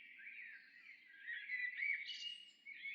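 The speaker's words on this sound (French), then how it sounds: "Le sifflement mélodieux des oiseaux attire mon attention." Melodious bird song in a calm outdoor setting, a continuous warbling whistle with sliding notes, faint but clear and alone against a quiet background.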